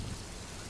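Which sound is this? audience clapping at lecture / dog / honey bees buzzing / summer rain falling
summer rain falling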